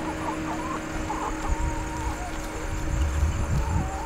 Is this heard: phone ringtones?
no